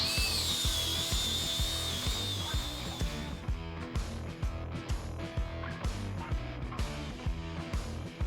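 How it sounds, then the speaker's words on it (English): A handheld grinder works across metal on a fab shop project, a steady loud whine with a high-pitched squeal early on, then continuing grinding with rhythmic surges and scraping as pressure shifts. "We'll grind that clear off all the way across."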